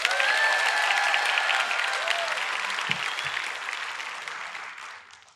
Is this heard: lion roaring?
no